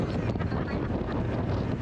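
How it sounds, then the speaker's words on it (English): Strong wind buffets a boat out on a lake in winter, a dense, roaring rush of gusts blasting steadily and loudly across the microphone for the whole moment. "And it's windy as hell."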